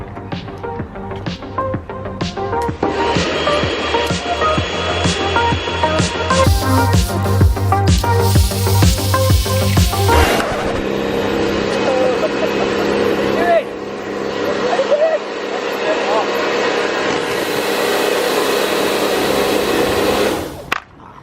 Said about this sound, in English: It's jet wash time.